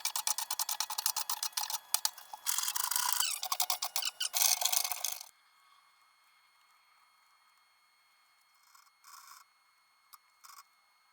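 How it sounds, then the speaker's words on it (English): Rapid rasping strokes of a hand plane shaving the edges of an industrial workbench table, loud and rhythmic for several seconds, then near quiet with a few faint scrapes. "Now we just have to plane up these edges a little bit"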